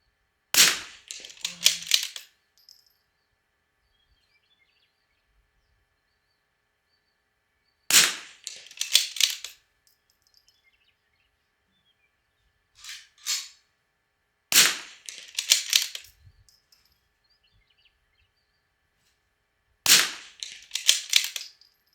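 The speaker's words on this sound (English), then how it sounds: "I'm going to shoot the top of the square." Four sharp, loud rifle shots from a Bergara B14R, each followed by a short ringing decay and spaced several seconds apart, with a fainter pop in between and quiet stretches otherwise.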